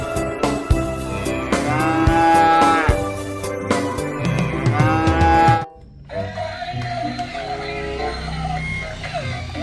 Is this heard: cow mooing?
yes